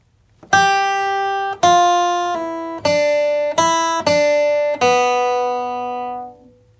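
Acoustic guitar plays the opening measure of a country bluegrass lick in G: six crisp, separate picked notes in a loose rhythm, close and clean, with the last note ringing out into silence.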